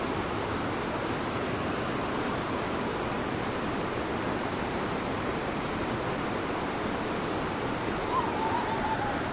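Snowmelt stream in Mustang rushing steadily over stones, a dense continuous roar of water at close range with no break or change throughout.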